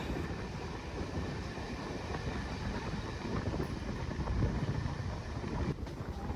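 MEMU passenger train running between Cuttack and Puri, a continuous rumbling roar of the moving coach with wind buffeting, steady and close throughout.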